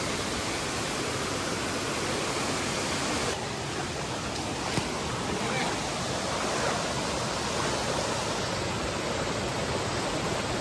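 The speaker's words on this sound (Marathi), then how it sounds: "हे धबधब्याचंच पाणी खाली येते" Broadband rushing roar of a monsoon waterfall at Kasarwadi in Radhanagari, its water pouring down steadily and loudly for the whole stretch with no pauses or other sounds standing out.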